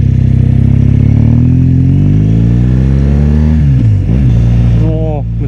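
A BMW GS adventure motorcycle rides through congested Las Vegas traffic, its engine droning loud and steady with rising and falling revs and a brief throttle dip near the end, while someone speaks over it.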